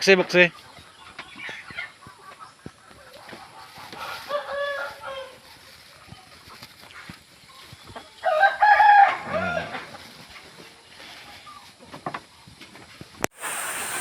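Chickens in a backyard poultry coop: clucking and fowl calls, with a louder crow-like call midway, close by against a hissing background and occasional bumps.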